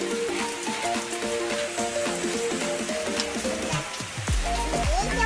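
Steady rain hisses and patters continuously on a pond, with some tonal sounds ringing over the wash of falling water.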